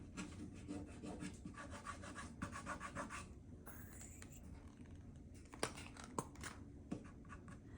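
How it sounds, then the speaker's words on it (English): Black paint is worked by hand into gouges on a painting in a studio, giving a steady close scrubbing rub through the first half, then quieter strokes broken by a few sharp taps. "I'm just going to rub it into those gouges."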